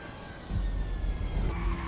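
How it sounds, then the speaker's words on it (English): A jet airliner in GTA V descends with a steady, loud engine roar and a high whine, heard close and continuous over a brief stretch. "Plane's coming down."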